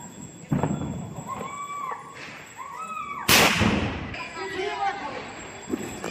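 A single sharp firecracker bang at Diwali, loud and close, cutting through voices talking; the crack tails off into a crackling fizz.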